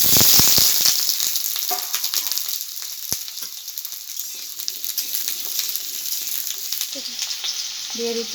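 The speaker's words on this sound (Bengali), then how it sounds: "আলুগুলো আগে ভেজে নেব।" Potato pieces crackle and sizzle in hot oil in a wok, a loud dense spitting hiss that starts strongest as they go in and then settles into steady frying, close by with occasional stirring clinks and no talking.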